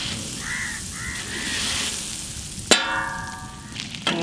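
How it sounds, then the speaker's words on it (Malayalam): Butter hisses in a hot pan for a mutton scrambled egg dish, a broad steady sizzle with birds calling faintly in the background and a sharp metal clang near the end. "നമുക്ക് കുറച്ച് ബട്ടർ ഇട്ട് കൊടുക്കാം."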